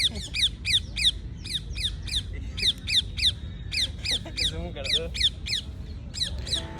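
Birds in a park squawk loudly in a rapid, repeated series of sharp calls that runs through the whole stretch, with a low background rumble underneath.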